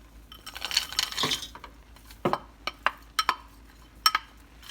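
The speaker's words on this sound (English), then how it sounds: "So this is when I'm going to add my frozen peas and carrots." Frozen peas and carrots tumble into a pot of basmati vegetable pilau rice, giving a soft pouring rustle followed by several sharp, close clinks and taps against the pot.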